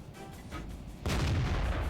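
A tank destroyer's gun firing in World of Tanks, one heavy boom about halfway through followed by a sustained rumbling roar, with a quieter muffled engine hum before it.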